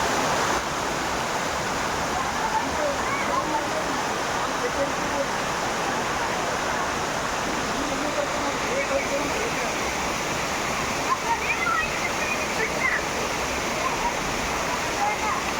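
A waterfall roars in a continuous, broad rush of falling water, loud and steady from start to finish, with faint voices now and then barely rising above the torrent.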